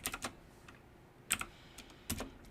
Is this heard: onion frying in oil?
no